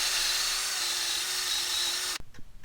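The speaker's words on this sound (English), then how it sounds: "Now I'm going to clean this mating surface up where the rotor mounts" A power tool whirs steadily at high speed against the rotor mounting surface of a Toyota Land Cruiser 200 Series hub, cleaning off corrosion, then cuts off abruptly near the end, leaving a few faint clicks.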